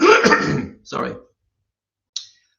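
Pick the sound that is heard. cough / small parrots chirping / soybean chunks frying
cough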